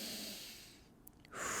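A single audible inhale through the nose during a lower-body stretching class, soft and close, rising toward the end of the moment after a brief quiet pause.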